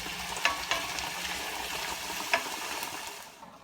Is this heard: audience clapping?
no